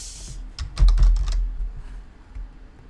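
Typing on a computer keyboard to enter a login username, a quick cluster of several close key clicks with a heavier thump in the middle, then quieting.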